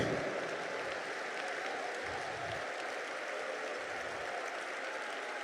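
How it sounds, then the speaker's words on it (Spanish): A church congregation applauds during a worship service, a soft, steady, fairly distant wash of clapping with low rumbling beneath it that lasts throughout. "Fuerte ese aplauso a la majestad de Jesús"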